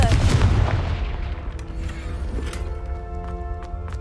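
A Confringo spell explodes in Hogwarts Legacy, a loud heavy boom that rolls out and decays over a few seconds, followed by faint rumbling debris.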